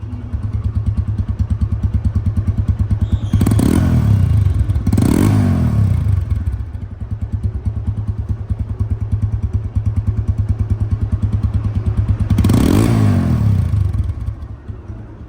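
A TVS Apache RTR 160 2V motorcycle engine runs steadily at close range, its loud idle thrumming continuously, with three sharp revs blipping up and falling back early, mid-clip and near the end.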